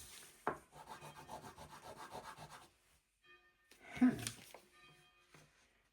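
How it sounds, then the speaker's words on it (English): Scraping and rubbing against the plastic of a Launch X431 CRP919X BT scan tool unit, close and faint, in two rasping bursts split by a short pause. "what do I have to scrape off that thing?"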